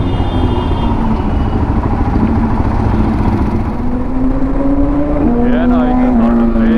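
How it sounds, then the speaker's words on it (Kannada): A superbike passing on a road in Bangalore, a loud, continuous engine roar with a rising whine as it goes by, heard over steady road noise. "ನಮ್ ದೇಶ ಯಾವುದೋ ಸೂಪರ್ ಬೈಕ್ ಬರ್ತಾ ಇದೆ"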